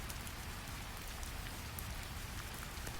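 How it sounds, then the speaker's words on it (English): Rain taps against stone walls as a steady, dense patter under a soft, even hiss, with no voices and no change from start to end. "Rain taps against stone walls."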